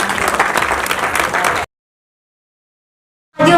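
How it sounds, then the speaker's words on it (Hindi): Audience applause at an evening music concert in an auditorium, a brisk burst of crowd clapping that cuts off abruptly into silence and then returns loudly for a moment at the end. "दर्शकों से एक बार गुजारिश करूंगी कि सर के लिए जोरदार तालियां"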